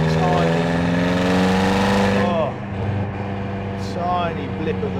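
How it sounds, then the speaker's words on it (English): A 2013 BMW M5 F10 with a 4.4 V10, held in fourth gear at about 50 mph, drones with a steady, loud exhaust note. Two quick throttle blips rise in pitch near the middle and toward the end. "tiny blip of the throttle just picks up speed like there is no tomorrow"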